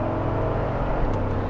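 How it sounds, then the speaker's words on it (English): Steady, loud engine and exhaust drone from a 2017 Mercedes G63 AMG under hard acceleration, a continuous low rumble heard from inside the cabin with no talking. "The exhaust sounds just incredible."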